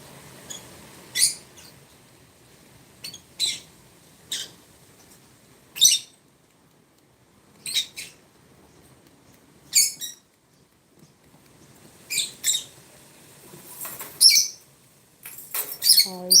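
Pet birds call in short, sharp bursts spaced a few seconds apart, high thin chirps that land clearly over a quiet background with no talk.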